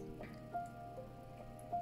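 Water poured into a pan for an ice-painting experiment makes soft, scattered drips and splashes at irregular intervals against a quiet background.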